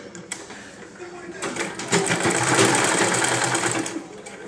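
A sewing machine stitching the seams of a pair of shorts runs in a close, steady whirring burst that builds and then stops, with a person talking alongside it.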